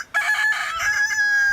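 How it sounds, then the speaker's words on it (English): A rooster lets out one loud, close cock-a-doodle-doo crow lasting about a second and a half, with no other sound around it. "he's got a very loud cock-a-doodle-doo, doesn't he?"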